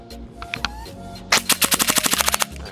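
KWA EVE airsoft gun firing BBs: a few scattered single shots, then a fast rapid burst of about a dozen sharp cracks, close and loud.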